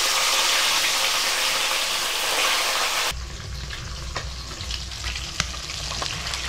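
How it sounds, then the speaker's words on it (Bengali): Fish frying in hot mustard oil in a karahi on a smokeless village stove gives a loud, steady sizzle up close that settles into a softer crackle, with small clinks of stirring and no talk. "মাছ ছাড়ছি মাছটা ভাজার জন্য।"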